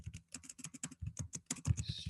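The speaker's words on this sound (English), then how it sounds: "I'll just type it now in the chat." Typing on a computer keyboard during an online talk, a quick, close run of crisp key clicks in irregular bursts with brief pauses, heard alone.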